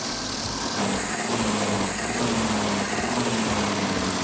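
A car engine running smoothly after repair, with a flywheel exposed, idles in a steady even hum with a faint high whine, alone and close.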